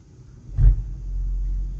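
A BMW X5 45e plug-in hybrid SUV with Stage 1 external ECU tune and OPF delete, engine kicking on in sport mode with Xtraboost: a low rumble swells briefly, then settles into a steady idle hum.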